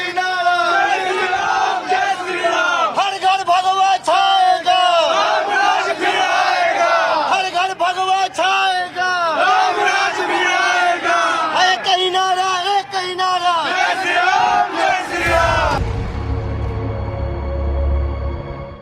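A large crowd of devotees cheering and chanting outside a hotel, a loud, sustained roar of many voices in rhythmic shouts that drops away abruptly near the end, leaving low rumble.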